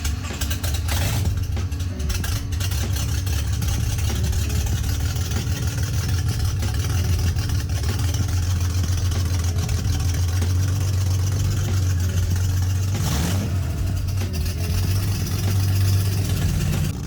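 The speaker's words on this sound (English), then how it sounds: "fired it up, and it idled around 1100 RPM" A 1981 Datsun 280ZX engine, with its crankcase ventilation hose just replaced, idles at about 1100 RPM, a steady, close, low rumble that holds evenly throughout without revving.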